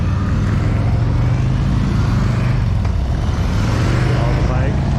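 Harley-Davidson motorcycles roll past at a demo-day ride event in Sonoma County, a continuous loud engine rumble with people talking nearby over it.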